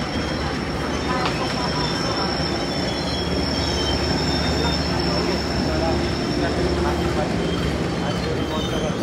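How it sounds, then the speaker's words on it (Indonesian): Sri Tanjung passenger train at Jombang station, heard from on board as a steady, loud rumble of wheels and carriages with a thin high squeal running throughout. "kereta Sri Tanjung sudah tiba di stasiun Jombang"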